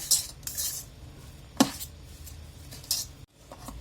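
A metal spoon scrapes and clinks against a steel bowl while boiled potatoes are tossed with salt and chaat masala, with irregular taps and a few sharper knocks against a quiet kitchen background.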